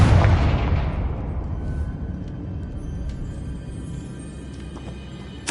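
Confringo blasting curse exploding in the video game Hogwarts Legacy: a loud, deep boom bursts at once and then decays into a long, rumbling tail with scattered crackles, a fresh impact starting right at the end.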